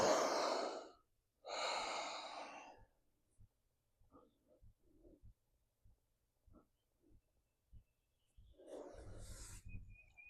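Deep, slow breathing during a yoga forward fold, with two long, loud exhales near the microphone, then quieter breaths and faint shuffles before another strong breath.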